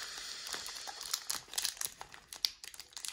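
Crinkly plastic Pokemon card pack wrapper being handled and torn open, close and quiet, with irregular bursts of rustling and crackling.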